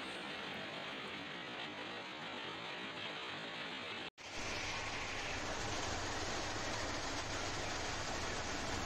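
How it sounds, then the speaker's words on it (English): Screening unit of a ballast cleaning machine on Indian Railway track runs as a loud, steady broadband roar with rumbling rail-like texture, cut by a momentary dropout midway before resuming at full level. "This video is about screening unit of BCM machine."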